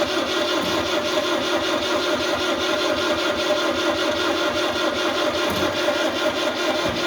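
A 1974 Citroën DS21, left unstarted for over six years, has its engine cranked and turned over in a steady, loud mechanical drone that holds throughout without clear catching or revving, with no talking.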